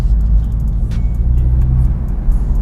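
BMW Z4 two-litre car engine heard from inside while accelerating, a loud steady low rumble with road noise and a few faint clicks, continuous throughout.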